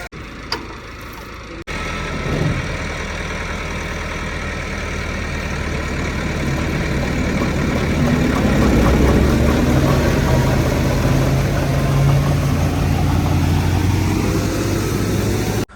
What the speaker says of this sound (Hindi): ये ट्रैक्टर वाले भाई आ चुके हैं ट्राली लेके।